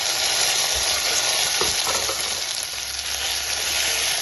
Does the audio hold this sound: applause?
no